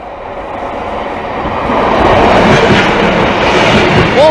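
Class 143 diesel train 143321 passing a level crossing, a rumbling approach that grows louder and closer into a steady roar of wheels on track with a faint squeal near the end.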